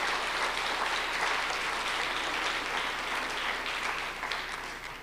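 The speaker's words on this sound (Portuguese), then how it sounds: "Você pode aplaudir a Jesus por essas vidas?" A church congregation applauds Jesus during a worship service, a dense, sustained wash of clapping from many hands that thins slightly toward the end, with no talk on top.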